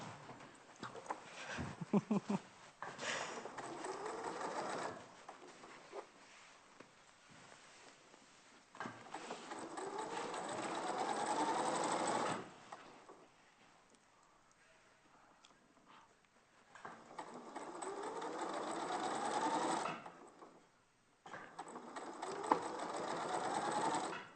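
A sewing machine stitches in several sustained runs, each a rapid mechanical whir that starts, holds and then stops, separated by quieter pauses with faint handling sounds.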